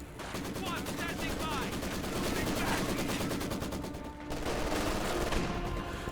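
Rapid machine gun fire rattles in a Company of Heroes 2 battle between Ostheer and Soviet forces, dense bursts of rapid shots running nearly continuously with a short lull before the firing resumes.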